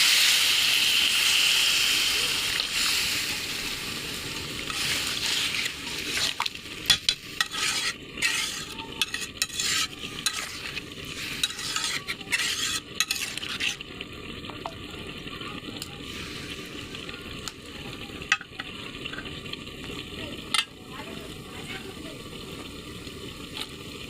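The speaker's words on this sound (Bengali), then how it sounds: "পরিমাণ মতো পানি দেবো।" Water hits a hot pan of fried eggplant curry with a loud hissing sizzle that fades over several seconds. Repeated metal spoon clinks and scraping follow as the curry is stirred, with the simmer bubbling underneath.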